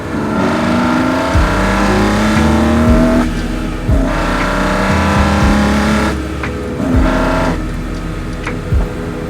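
A BMW E46 M3 engine revs hard and repeatedly, roaring up and dropping back between throttle blips, loud and close with a deep intake growl heard through the intake plenum.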